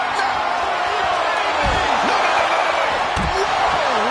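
Heavy body slams from a WWE video game ambulance match on PS5 thud twice amid a noisy arena crowd and ongoing commentary voices.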